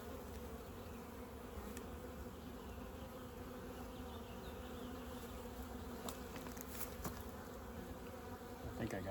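Honeybees buzzing in a big open hive with no queen, a steady soft drone from many insects nearby, continuous throughout with a few faint clicks and handling sounds.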